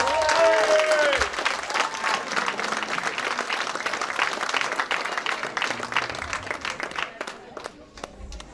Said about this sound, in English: Can we please give a big round of applause to our very own Shakti Arts?